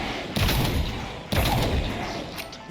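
Two bursts of rapid gunfire from modern guns in a Minecraft D&D modpack, each a loud rattling volley lasting close to a second, close and punchy.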